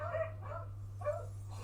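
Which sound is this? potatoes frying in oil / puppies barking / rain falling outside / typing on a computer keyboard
puppies barking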